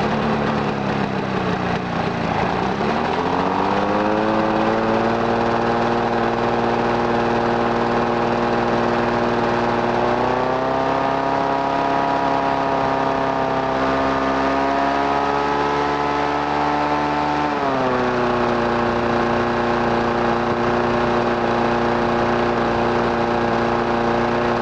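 Lawn-Boy lawn mower engine, just repaired after a carburetor fix, pull-started and then running steadily, loud and close, with its pitch rising and dipping a few times as the speed shifts, no talk over it.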